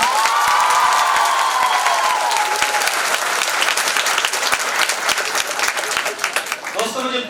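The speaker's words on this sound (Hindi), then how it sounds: "एक बार खुद के लिए जोरदार तालियां बजाइए" A crowd at an award ceremony during Phagotsav 2021 at Banco Academy Sikar breaks into loud, sustained applause with some cheering, a voice calling over it at first and speech resuming at the end.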